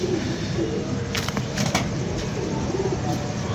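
Pigeons in a fancier's loft coo softly and repeatedly at close range, their low throaty calls running through the whole stretch with faint background noise.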